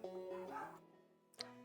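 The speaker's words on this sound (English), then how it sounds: "My dog started barking." A dog barking indoors, heard as a tonal bark and whine followed by a sharp bark close by, at moderate loudness, with no one talking.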